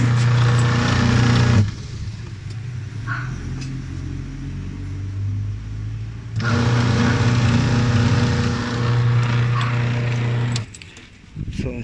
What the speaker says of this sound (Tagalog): may umiikot yung motor sa ilalim pero hindi na talaga umiikot yung labada